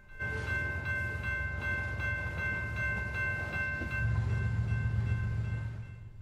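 A BNSF freight train with helper locomotives climbs the last mile into Springfield Yard, its diesel engines rumbling deep and loud with steady tonal whine and rolling rail noise, growing heavier near the end.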